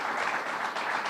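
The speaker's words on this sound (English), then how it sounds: "they deserve a round of applause as usually" An audience at a De La Salle capital campaign kick-off event gives a round of applause, a brief, dense burst of many hands clapping throughout.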